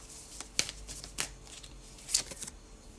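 Tarot cards being shuffled and drawn during a card reading, giving three quick papery riffles with softer rustling between them, close and fairly quiet, with no voice.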